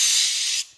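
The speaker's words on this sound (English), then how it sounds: "Gonna give them a little with the spray. Gonna use a semi-gloss today." A can of semi-gloss spray paint hisses in one short, steady burst onto light mounts for a Honda CT90 trunk, loud and close, cutting off abruptly after well under a second.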